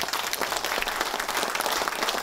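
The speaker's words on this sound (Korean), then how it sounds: "이완구 원내대표 힘내라고 큰 박수 한번 주세요." Applause at a ruling party lawmakers' meeting in support of floor leader Lee Wan-koo, a dense, even crackle of many hands clapping at moderate loudness throughout.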